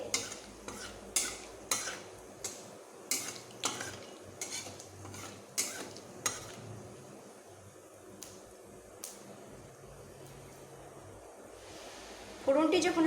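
Panch phoron spices crackle in a pan as a utensil stirs and scrapes, with sharp clinks repeating about once a second and then thinning out, ending in a louder clatter.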